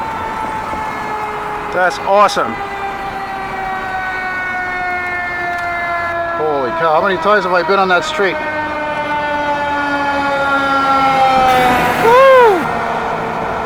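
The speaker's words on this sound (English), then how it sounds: "I've never filmed a response before on Park Avenue. Fire trucks." Fire truck sirens wail on Park Avenue in Montreal's Mile End district, with repeated rising and falling sweeps and sharp horn bursts as the trucks pass nearby. Someone talks excitedly over the sirens.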